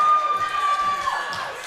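At a powerlifting championship, an audience cheers a lifter as he comes out: a loud crowd with high whoops and shouts, sustained for under two seconds, clapping not clearly separable.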